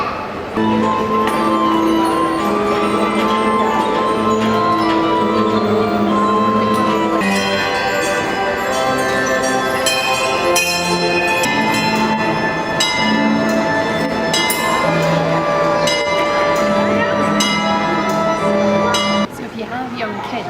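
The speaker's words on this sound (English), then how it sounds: "waiting for this clock to chime, which should be happening in a minute or two" A mechanical clock at the National Museum of Scotland in Edinburgh chimes with overlapping bell tones and clinks, ringing steadily and loudly for a long stretch while a crowd murmurs and talks nearby.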